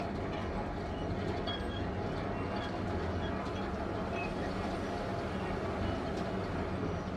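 Train ride toward a park subway station in the video game Syberia 3, a steady low rumbling roll of rail cars with faint clicking, constant and moderately quiet with no voices.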